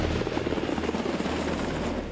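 A Coast Guard H-60 Jayhawk helicopter roars steadily at close range, its rotor thumping in a fast even beat beneath a broad engine whine, with no voices.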